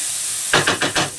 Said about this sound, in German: Das Ganze lasse ich jetzt hier noch so ein bisschen brutzeln.